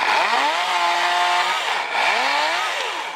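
A self-sharpening chainsaw cuts wood, the engine revving loud and near in two sustained pulls, dipping briefly between cuts.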